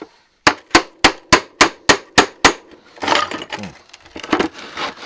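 Eight sharp hammer blows ring out in a steady rhythm, close and loud, on a stuck cap nut, followed by scraping and clattering of tools being handled.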